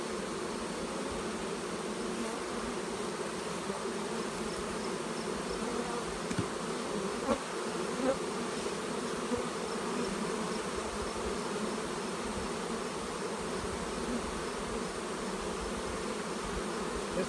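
Honey bees drone in a dense, steady buzz around an open hive during an inspection, a continuous close swarm sound with occasional faint clicks and knocks of frames.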